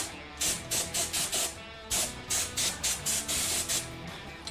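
Repeated short bursts of aerosol paint hiss close up as brake rotors on a Holden VE are coated, about a dozen sharp sprays in uneven rhythm with brief pauses between them.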